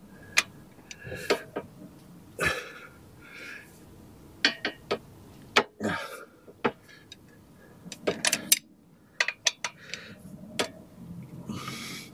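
Flywheel bolts on an Iveco Daily crankshaft being tightened during a clutch job, giving sharp, irregular metallic clicks and ticks, some in quick clusters, close by against a quiet workshop background.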